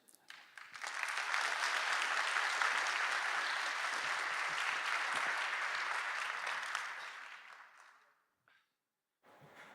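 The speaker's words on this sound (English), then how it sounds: "right in the midst of this applause, I'd like to invite the president of Ton Foundation, Steve Yun" Sustained audience applause at a conference event, swelling quickly and holding steady for several seconds before fading out, with a brief quiet gap and a faint return near the end.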